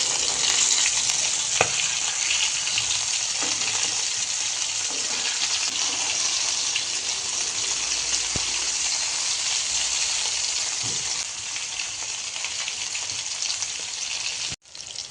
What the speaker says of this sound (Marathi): हे आपण डीप फ्राय करत आहोत